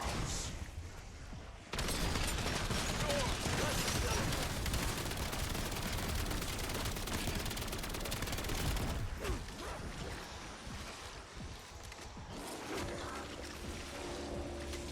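Rapid weapon fire in Black Ops 7 Zombies, a dense continuous stream of shots with game effects layered underneath, fairly even in level with a brief lull near the start.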